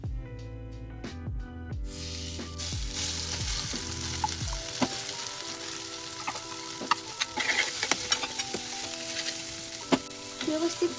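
Ground green peas fry in leftover oil in a pan, a steady close sizzle broken by stirring scrapes and light clinks, with no talking.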